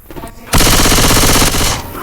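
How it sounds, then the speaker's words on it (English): Loud, sustained burst of rapid automatic gunfire lasting about a second from a shotgun in the video game Hard Rain, with quieter game sounds before and after. "Try this shotgun."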